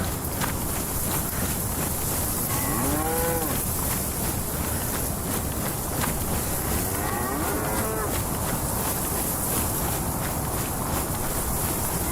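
A cow in a video game lets out two long, drawn-out moos several seconds apart over a constant bed of ambient noise and faint buzzing insects, fairly close.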